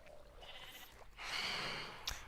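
A sheep bleats in Minecraft, a short wavering call rising out of a hissy game background, followed by a brief sharp knock near the end.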